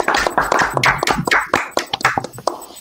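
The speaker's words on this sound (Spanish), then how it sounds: "Un fuerte aplauso, aunque somos poquitos" Sparse, close applause from a small group after a doctoral thesis defense, individual hand claps distinct and uneven for about three seconds, with no talking.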